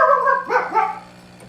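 A house dog barks right after a knock on wood, giving one close, loud bark-like yelp with a short whimpering tail.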